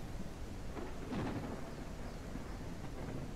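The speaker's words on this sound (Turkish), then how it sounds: "Şimşekler de çatıyor." Thunderstorm with heavy rain in the Ranch Simulator video game: a steady wash of rain throughout, with a rolling rumble of thunder swelling near the middle and fading out, no talk.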